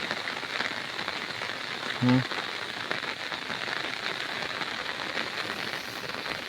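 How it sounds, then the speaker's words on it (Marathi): Heavy rain pours steadily over flooded rice paddies in monsoon farmland, a dense continuous hiss of drops close by, with a brief low thud partway through. "पावसाचा जोर आणखीन वाढायला लागला आता"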